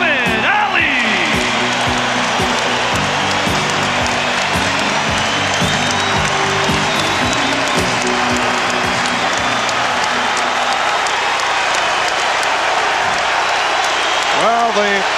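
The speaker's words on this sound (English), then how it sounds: "the chant from this capacity crowd for Muhammad Ali" A capacity arena crowd at an NBA Finals game applauds and chants for boxer Muhammad Ali, a loud, continuous roar of clapping and rhythmic voices that stays steady throughout, with a public-address voice over it early on.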